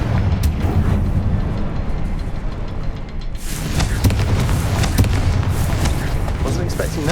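A Confringo blasting spell explodes in the video game Hogwarts Legacy, a loud booming burst over a dense rumbling game soundscape, with a second surge of crackling impact energy midway and a voice in the mix.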